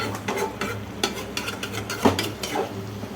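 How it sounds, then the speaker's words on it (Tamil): Paneer frying in a kitchen pan, a steady close sizzle broken by scraping stirs and a few light clinks of a utensil against the metal, with no talking. "இப்போ இதை நல்லா ஃப்ரை பண்ணிடுவாங்க"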